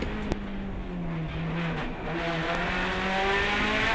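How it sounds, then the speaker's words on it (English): A rally car on a forest stage revving hard through a corner, engine pitch dipping and climbing as it passes, loud and continuous with a brief tire scrub. "Little neutral the car there, bit of understeer on entry, tidy on the exit."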